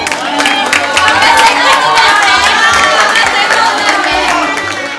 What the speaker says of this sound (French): Est-ce qu'on peut applaudir pour elle, s'il vous plaît?